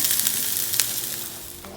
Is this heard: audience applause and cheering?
no